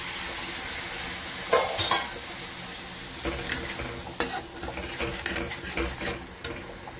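Frying spices in a pan with a little water added, a steady sizzle under repeated spoon scrapes and metallic clinks, close and moderately loud.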